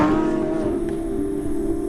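A Lamborghini Sián hybrid supercar with a naturally aspirated V12 holds a steady, loud engine note with rich harmonics, droning evenly throughout without speech.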